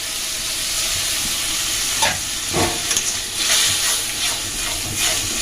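Tomato paste hisses and sizzles in hot oil in a pan while being stirred for a chicken Moglai paratha and potato curry, a steady close frying crackle broken by a few scraping strokes, with no voices.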